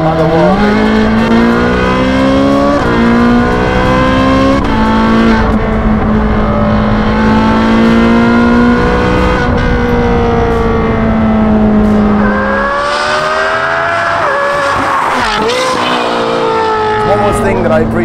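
A Ferrari naturally aspirated engine revving toward 9,500 rpm, loud and continuous with a rising, howling pitch that climbs, drops and climbs again, heard close up.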